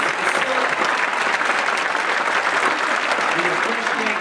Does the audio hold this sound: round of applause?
yes